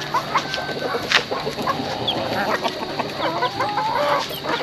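Native chicken roosters clucking close by, a busy scatter of short clucks and calls over faint outdoor background noise.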